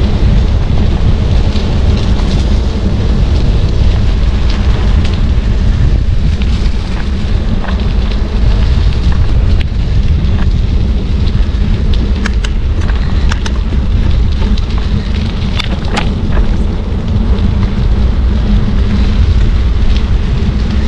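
Steady heavy rain pours down during a thunderstorm, a constant loud hiss with a deep low rumble of thunder beneath and scattered sharper drops and crackles throughout.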